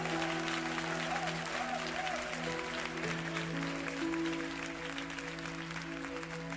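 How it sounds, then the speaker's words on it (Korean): A church congregation applauds steadily and continuously for several seconds, a dense sustained clapping heard at moderate distance over a soft held organ or keyboard tone. "우리 하나님께 다시 한번 큰 영광의 박수를 드렸으면 좋겠습니다."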